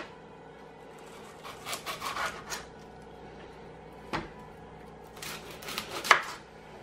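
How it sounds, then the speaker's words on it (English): A kitchen knife cuts an onion in half in a few soft chopping strokes, separated by pauses, with one sharper knock of the blade against the board and faint handling noises at close range. "So I'm just going to cut it in half."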